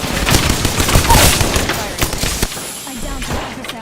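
Gunfire in the battle game Apex Legends, with dense bursts of rapid shots crackling close and loud through the first two and a half seconds before thinning into scattered lighter pops.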